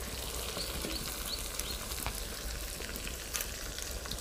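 Ginger paste, garlic paste and chopped tomato hit hot oil in a pan for a chicken and pumpkin curry, crackling in a soft, continuous sizzle with small pops and faint stirring.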